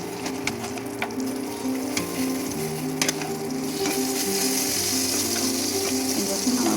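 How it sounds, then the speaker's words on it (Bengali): Eggplant slices fry in hot oil with a steady, dense sizzle and crackle, plus small clinks and taps from a utensil against the pan, loud and close with no talk. "গরম তেল তেল গরম করে নিয়ে তারপর আমি এর মধ্যে একটা একটা করে বেগুন দিয়ে দিলাম।"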